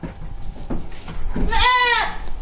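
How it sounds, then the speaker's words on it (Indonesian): A dairy goat on a breeding farm, where about fifteen does wait to be mated, gives one loud, wavering bleat midway after a few softer farmyard sounds. "doro-doro kambing perah, ada sekitar 15-an ekor yang antri untuk dikawinkan"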